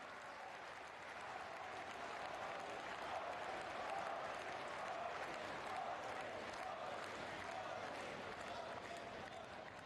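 Thunderous applause from a large crowd welcoming a Jain acharya's special address at a Mahavir Jayanti museum inauguration at Koba tirth, a dense steady roar of clapping that swells slightly and holds throughout with no break.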